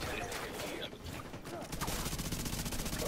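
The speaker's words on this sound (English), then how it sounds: "I got 10 NPCs shooting at me" Dense, continuous automatic gunfire from enemy NPCs in The Division 2, a loud rapid rattle of overlapping shots that intensifies into a steady fast-pulsing burst in the second half.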